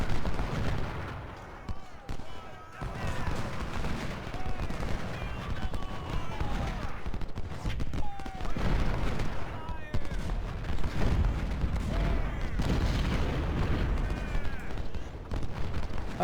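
Civil War artillery and musket fire rumble through a battle in the Ultimate General: Civil War strategy game, forming a dense, continuous roar with a few sharper blasts and faint whistling tones layered over the din.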